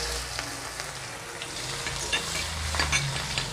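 Chopped onion, ginger and garlic frying in oil with a bay leaf, a close, continuous sizzle with occasional stirring scrapes and soft crackles, no voices.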